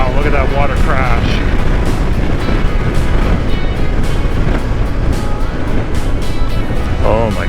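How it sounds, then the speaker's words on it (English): Ocean waves crashing near a windy shore, a loud rolling wash of surf blended with gusting wind rumble, with people's voices talking over it throughout. "look at that water crash"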